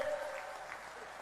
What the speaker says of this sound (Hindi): सभी लोग ताली बजाओ अपनी बहन के लिए